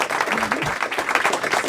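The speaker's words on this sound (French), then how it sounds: "Je vous demande de l'applaudir très fort" An audience applauds loudly at an anniversary show, thick rapid clapping mixed with crowd noise and a brief voice underneath.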